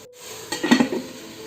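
A spatula clatters and scrapes against the metal pressure cooker in a quick cluster of knocks while tomatoes are sautéed, with only a faint sizzle underneath.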